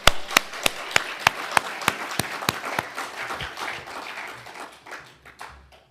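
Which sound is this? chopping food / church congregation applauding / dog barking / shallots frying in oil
church congregation applauding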